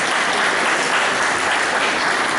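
Church congregation applauding as a town mayor is introduced, a dense, steady wash of clapping throughout with no voices.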